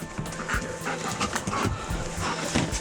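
A police sniffer dog pants steadily while searching a room with plastic boxes on a bed, its quick breaths running throughout amid faint room noise.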